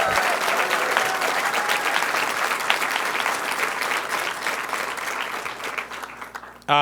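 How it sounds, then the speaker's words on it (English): Sustained applause from a large crowd at a mechatronics lab grand opening welcoming Jill Biden, steady and dense throughout, with a brief louder burst right at the end. "Please give her a round of applause that she can hear back there"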